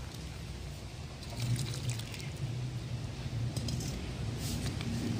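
Thick white poppy seed (posto) paste poured out in a Birbhum-style posto dish with potatoes, a soft continuous wet pouring and trickling sound with faint clinks, close and steady, with no talk.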